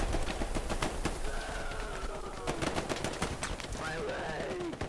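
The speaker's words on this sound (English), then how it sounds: "Machine gun top of the large barn." Machine gun firing from atop a large barn in the World War II shooter Hell Let Loose: distant, sharp bursts of rapid shots rattle throughout, with birds cooing and calling over the gunfire.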